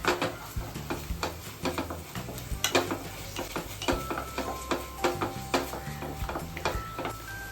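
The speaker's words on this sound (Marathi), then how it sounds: "आले लसून पेस्ट घालूया पेस्ट आपण छान परतून घेऊया" Ginger garlic paste with coriander powder sautéing in a pan while chole is prepared, giving a steady sizzle under repeated scraping and stirring clicks of a utensil against the pan.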